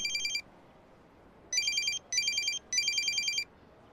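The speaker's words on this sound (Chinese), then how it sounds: "都不知道是不是推销电话，" A phone ringtone announces an incoming call in four bursts: one short electronic ring, a long pause, then three rings in close succession, clear and steady over a faint background.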